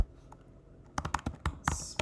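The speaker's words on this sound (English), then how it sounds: "I can go to advanced search and I can type in" Typing a search on a computer keyboard: after a near-quiet moment, a quick burst of close key taps in an uneven rhythm, ending with a firmer keystroke.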